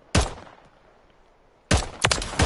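Gunshots in a shooter video game: a single loud, sharp report, then a pause, followed by a quick cluster of three or four close, punchy shots fired in rapid succession.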